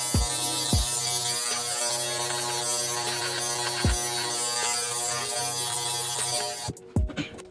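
Electric hair clippers with a 0.5 and 1.5 guard cutting hair for a 360 waves haircut, a close, steady mains-like buzz with a few clicks as the clippers touch and lift from the head.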